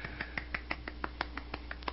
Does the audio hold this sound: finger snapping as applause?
yes